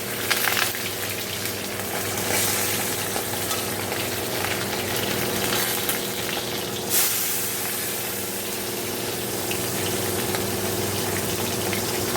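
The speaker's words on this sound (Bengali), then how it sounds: "তবে এখন মাছগুলো ভেজে নিই" Pieces of bata fish fry in hot oil for a Bengali spicy curry, a steady dense sizzle and crackle running throughout, close and fairly loud, with a brief surge near the middle and no voices.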